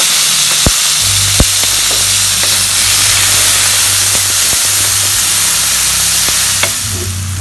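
Loud, close sizzling as tomatoes go into sautéing garlic and onion for pork giniling picadillo, a continuous hissing fry broken by a few sharp utensil taps, with no talk.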